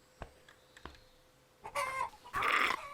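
A chicken in the video game Survive the Nights gives a few soft, scattered clucks, then breaks into two louder, rising squawking bursts, close by with no talking.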